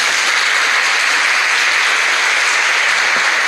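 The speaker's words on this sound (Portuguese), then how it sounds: "Uma salva de palmas para Nossa Senhora" Steady audience applause at a Catholic religious talk, a dense wash of clapping that stays loud and even for a few seconds, with no voices over it.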